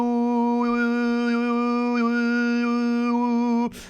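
A throat singer holds a reedy, mid-range drone in the Mongolian hume style, loud and close for nearly four seconds, with a steady low pitch and overtones that rise and fall.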